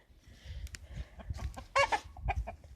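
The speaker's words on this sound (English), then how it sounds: "We got 4 chickens." Backyard chickens, including a red rooster, a small white rooster and a small black hen, cluck outdoors in a run of short, close clucks and squawks at moderate volume.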